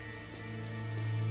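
Steady rain in the Tales of Xillia video game, a dense even patter that swells slightly, layered with a droning tonal background music bed.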